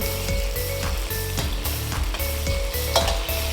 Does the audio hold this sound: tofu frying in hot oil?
yes